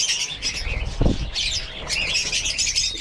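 Guinea fowl kept as poultry at a rural farm hut squawk in harsh, scratchy bursts, loud and close, continuing throughout with a brief low flutter or thump partway through.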